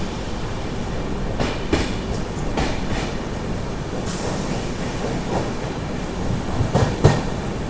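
The Charminar SF Express, running from Chennai Beach to Hyderabad, rolls along in a loud, steady rumble, heard from on board with rhythmic clickety-clack beats of wheels over rail joints.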